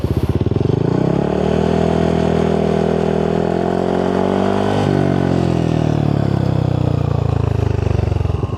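A Yamaha NMAX Tech Max scooter fitted with a 4S1M Street Core V3 exhaust revs hard and steadily near 5,000–6,000 RPM, a loud, close, buzzy drone that rises then eases back.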